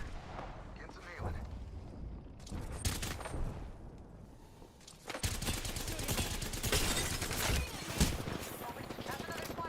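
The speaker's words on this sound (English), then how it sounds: "That's another squad shooting at us." Video-game gunfire from an opposing squad, dense bursts and volleys of shots rolling on and off throughout, loud and close with heavy low-end impacts, mixed with game effects.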